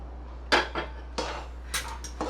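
Sesame and jaggery laddu filling being added to a pan and stirred, heard as a few close scraping and clattering strokes over a steady low hum.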